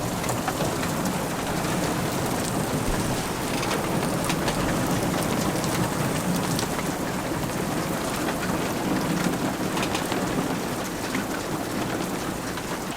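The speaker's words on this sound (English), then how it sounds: "Mega storm." Heavy rain pours steadily onto a van during an intense thunderstorm, a dense continuous hiss with low rumbles of thunder underneath, close and unbroken throughout.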